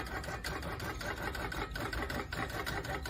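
A Janome Quilt Maker 18 with Pro-Stitcher Lite runs a vertical baste across a practice quilt, giving a steady, close mechanical whir of fast stitching that holds unbroken for about three seconds with no voices.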